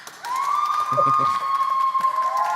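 Applause and cheering from a crowd, with a long sustained whistle-like tone and whoops over continuous clapping noise, and a voice talking briefly partway through.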